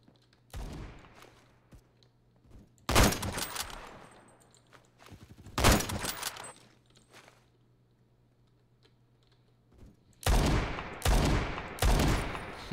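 Gunfire in the Phantom Forces shooter game, heard as several separate sharp bursts of shots spaced a few seconds apart, with quiet gaps and faint clicks between them.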